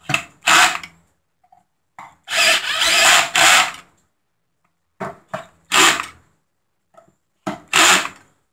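Power drill snugging crankcase screws on an MS660 chainsaw, a series of short loud whirring bursts separated by silent pauses, some single and some double, close and clear.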